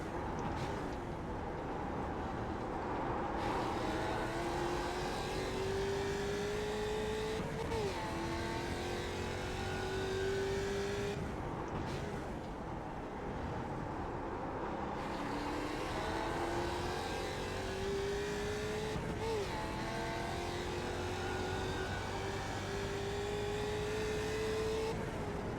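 Ford Mustang production race cars roar around the Ledenon circuit in the iRacing sim, the engine rising through the gears with sharp shift drops, loud and continuous for the whole stretch.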